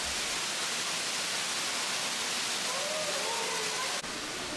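A golden-lit waterfall inside Gwangmyeong Cave roars as a steady, loud, broad rush of falling water filling the whole stretch, with faint tones drifting over it.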